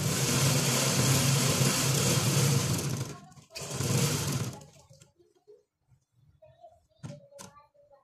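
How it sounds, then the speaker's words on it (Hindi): A sewing machine stitches corded piping onto fabric panels for a garment hem, its loud, steady whir running close for about five seconds with a brief dip before fading to quiet handling noise and soft talking. "इसी के ऊपर अब हमने डोरी वाली पाइपिंग रखनी है और सिलाई लगाते जाना है।"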